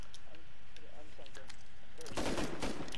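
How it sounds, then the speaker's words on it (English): An enemy fires up through the floor in the video game Rust on console: sparse sharp shots first, then a loud rapid burst of gunfire near the end, with people talking over it. "he's shooting at me through the floor"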